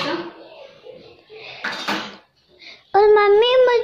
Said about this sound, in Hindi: बर्तन धो रही बेटा।